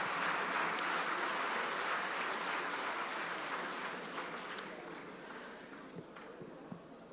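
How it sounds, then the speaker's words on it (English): Audience applause for Subodh Kerkar at The Hindu Lit Fest 2024, a broad hall of clapping that gradually thins and fades toward the end, with a few scattered claps lingering. "Big round of applause, ladies and gentlemen, once again to Mr. Subodh Kerkar"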